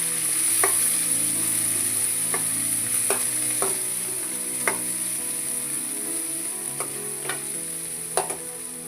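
Ginger, garlic, curry leaves and onion fry in a pan with a constant hissing sizzle, broken by scattered sharp scrapes and taps of a spoon stirring at irregular intervals.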